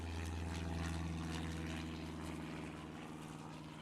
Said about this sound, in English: goddamn planes flying over right at the wrong time